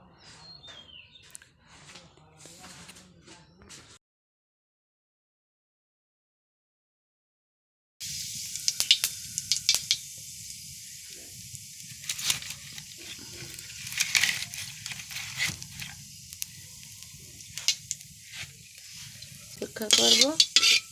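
Oil and cumin seeds sizzling in a wok for hilsa pulao: a quiet crackle at first, a few seconds of silence, then a livelier, uneven sizzle with sharp spitting pops and stirring scrapes.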